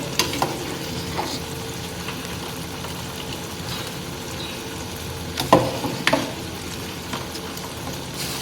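Rice stirred into frozen peas frying in a hot pan for veg biryani, a steady close sizzle with scraping stir strokes and a few sharper clatters near the end, no talk.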